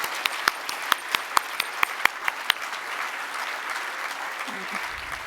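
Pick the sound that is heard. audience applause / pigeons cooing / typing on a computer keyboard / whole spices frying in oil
audience applause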